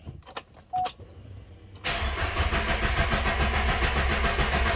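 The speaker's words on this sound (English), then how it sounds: "long crank again" A JDM Subaru EJ20 engine with a P0172 rich-running fault cranks with a few brief clicks and whirs, then catches around two seconds in and settles into a steady, loud, rumbling idle close by.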